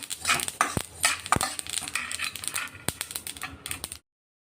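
Sesame seeds crackle and pop in a hot pan, a handful of sharp close snaps over a soft frying hiss, with no talking.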